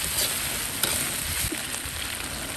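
Ginger, garlic and doubanjiang stir-frying in oil in a wok for a spicy pork bone dish, a loud, close, continuous sizzle with scraping strokes of the spatula and no voices.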